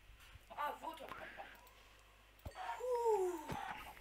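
Chickens cluck in a video game, with a couple of short bursts of clucking calls at moderate distance over a faint, steady background hum.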